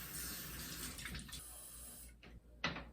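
Tap water running into a hamster's water bottle and small water bowl, a soft steady faucet stream that cuts off near the end, followed by a couple of brief splashy trickles.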